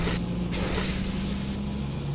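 Steady, loud hiss of steam and spray as water hits a burnt-out car after a fire, a continuous broadband rush with brief brighter surges, close by and alone.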